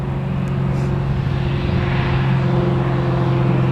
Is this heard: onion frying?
no